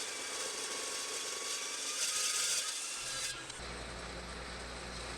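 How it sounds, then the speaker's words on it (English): A cold cut saw cuts metal rod stock to length, giving a steady, close, high-pitched grinding hiss that shifts to a lower, rougher tone partway through, with no talk. "This is cutting the rod stock to length that will go in those holes that I just drilled on the brackets using a cold cut saw for metal"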